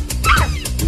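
A person imitating a dog barking, giving a couple of short voiced bark-like yelps close to the microphone.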